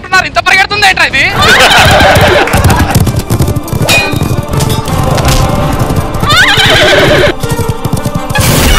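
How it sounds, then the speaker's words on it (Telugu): Loud, repeated horse neighs and whinnies ring out as sound effects in a Jabardasth comedy skit from Telugu television, with clip-clop hooves and crowd noise underneath. "నువ్వు గట్టిగా అరవకరా, అసలే గుర్రం బెదిరిపోయింది."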